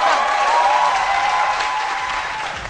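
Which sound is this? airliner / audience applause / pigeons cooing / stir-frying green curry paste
audience applause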